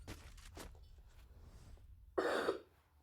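A person gives one short, harsh cough near the end after faint breathy throat sounds, close and fairly quiet.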